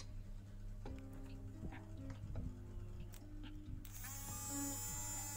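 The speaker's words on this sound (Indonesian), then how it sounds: "Di sini ada satu buah dinamo." A small DC motor runs on a 12-volt test bench, giving a steady electric buzz that rises into a louder, brighter whirring about two-thirds of the way through, close up with no talking.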